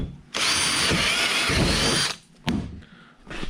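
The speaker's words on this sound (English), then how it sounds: "I'm gonna drill a hole in it." A power drill bores a hole into a kayak hull, a loud steady whine running for nearly two seconds, then stopping, followed by a brief second burst and a short final spin-up.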